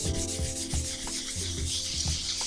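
Sandpaper rubbed by hand over a vinyl record, a steady scratchy rasp with rhythmic back-and-forth strokes, close and continuous with no talking.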